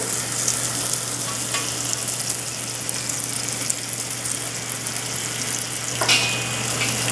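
Food, served as a holiday appetizer, fries in a pan until golden, producing a steady, close hiss of sizzling oil with faint crackles and a brief brighter flare near the end; no one speaks.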